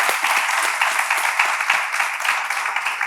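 Studio audience members clap for a guest on a talk show about mothers as leaders; moderate, continuous applause from a small crowd, slightly uneven, with no voices over it.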